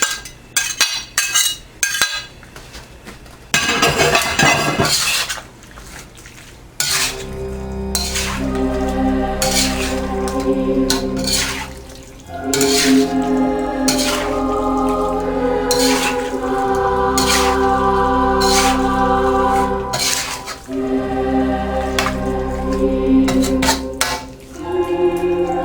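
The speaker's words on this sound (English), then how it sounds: "And now we can take our onion mixture and put it back in." Onion mixture tipped back into a pot of simmering vindaloo and stirred, a spoon clinking and scraping against the metal pot in repeated bursts over a low bubbling sizzle, close and fairly loud.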